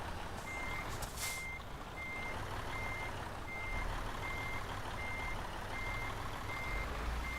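Steady, regularly spaced reversing alarm beeps from a truck in Euro Truck Simulator 2, ringing over a constant low engine rumble for the whole stretch.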